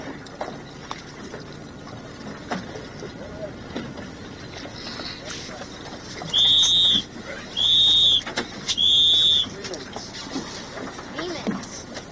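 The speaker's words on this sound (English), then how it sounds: "3 whistles, I assume, is 3 minutes." Three long, loud whistle blasts mark the start sequence at a Lightning sailboat race on open water, sounding in a steady evenly spaced rhythm over wind and faint background talk.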